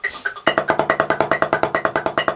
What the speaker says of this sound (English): so if I were to play a double stroke roll at that